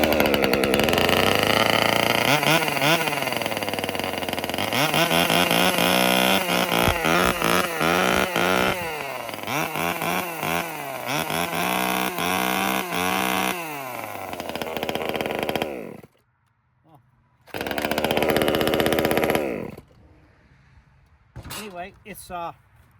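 A small gas engine cold-starts with the choke on after a pull on the starter cord, bursting into a loud, buzzing, chainsaw-like roar that revs and wavers, then cuts out, restarts briefly, and sputters in short bursts near the end.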